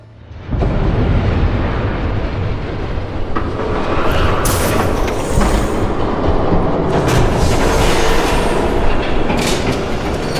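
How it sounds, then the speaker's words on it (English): Train approaching in the Batman: The Telltale Series video game, a loud rumbling rush of wheels and carriages that rises quickly and stays heavy, with metallic rattling and screeching bursts throughout. "There's a train coming."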